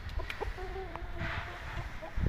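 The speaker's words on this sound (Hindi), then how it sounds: "हाथ में पकड़ के नीचे छोड़ेंगे तब भी जो है असील मस्ती में आता है" An Aseel rooster clucks in short, soft bursts against steady outdoor background noise, with a brief louder thump near the end.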